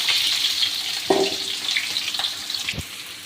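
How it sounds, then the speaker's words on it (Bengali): Chopped onion, garlic and chili frying in a pan for spinach, a bright steady sizzle with a few stirring clinks and scrapes, close and continuous. "তো আমি পালং শাকের কারণে কিছু পেঁয়াজ কুচি, রসুন কুচি এবং মরিচ কুচি দিয়ে নিলাম।"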